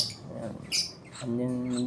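A pet baby bird chick gives a few short, shrill squawking calls up close, with a brief thin chirp and a scratchy handling sound in between.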